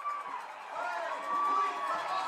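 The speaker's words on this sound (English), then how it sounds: "And the crowd is into the game now." High school football crowd cheering in the stands during a game, a broad, moderately loud roar of many voices that swells slightly midway, with a faint whistle-like tone above it.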